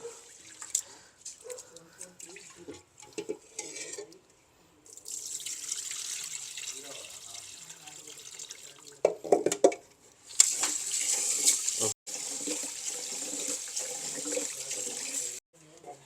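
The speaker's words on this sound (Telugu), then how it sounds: "ఈ బియ్యం అయితే కడుగుదాము" Rice being rinsed under a running kitchen tap during cooking in Goa, with a steady rush of water and spatter that starts and stops a few times, close by, after some earlier handling noises.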